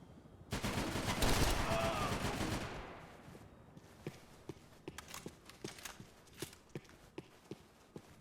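Gunfire in Max Payne 3: a dense, loud burst of rapid shots for about two seconds, then a string of sharp, evenly spaced single shots.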